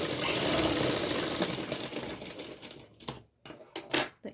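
A sewing machine runs at a steady whir while stitching a kurta suit, loud and close, then stops and gives a few short bursts toward the end.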